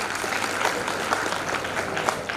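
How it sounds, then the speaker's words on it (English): Steady applause from a seated audience at a live brainstorming session, dense continuous clapping filling the hall without pause. "Give a huge round of applause for sir"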